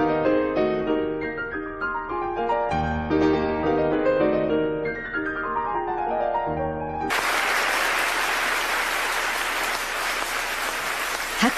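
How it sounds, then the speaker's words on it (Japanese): Concert hall audience bursts into broad, sustained applause for blind Japanese pianist Nobuyuki Tsujii at a piano competition, the dense clapping starting abruptly after a sustained piano passage fades and continuing steadily to the end. "拍手が鳴り止みません。"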